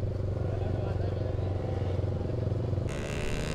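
A motorcycle engine idles with a deep, throbbing exhaust rumble, steady and close, while voices talk over it during off-roading.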